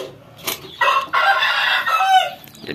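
Chickens in a poultry coop being fumigated cluck and squawk loudly and close up in a few short overlapping bursts, with no talking.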